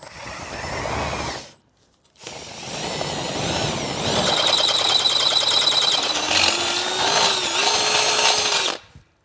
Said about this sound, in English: So take our bit and get that drilled out.